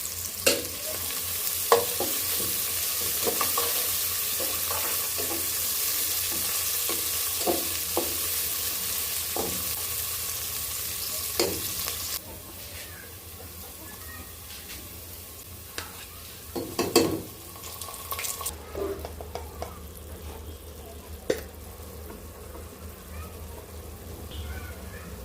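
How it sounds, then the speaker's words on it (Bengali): Onions and spices fry in oil in a pan with a bright, steady sizzle and repeated stirring clicks. Midway the sizzle drops to a softer simmer with sporadic utensil knocks. "পেঁয়াজটা ভালো করে লাল লাল করে ভেজে তারপর হচ্ছে মশলাগুলো দিয়ে দিব"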